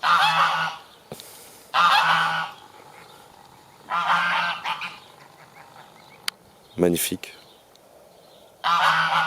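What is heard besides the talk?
domestic geese honking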